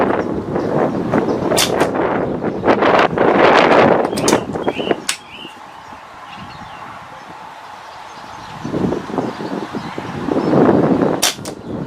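A Kral Puncher Pro 500 air rifle fires several sharp cracks at a target outdoors in wind, with clusters of impulsive snaps early on, a quieter windy stretch, then more shots near the end.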